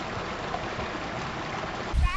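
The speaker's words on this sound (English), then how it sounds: "I just had to stop and get a shot of the waterfall trickling down here." Water from a small waterfall trickles into a stream, producing a steady, close outdoor splashing hiss that changes slightly near the end.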